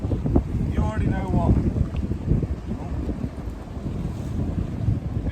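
Strong wind buffets the microphone outdoors at a fishing spot by the water, a steady low roar with gusts throughout.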